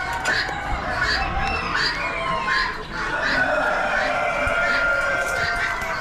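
Buff-faced Polish chickens clucking at an Amish animal auction, many birds clucking and squawking close by over a busy crowd murmur, with people talking in the background.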